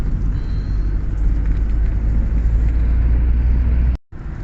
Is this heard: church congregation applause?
no